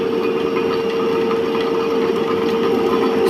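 Separately excited DC shunt motor running at constant speed on a lab test rig with spring balances, a steady close mechanical hum with a strong tonal whine, continuous and even.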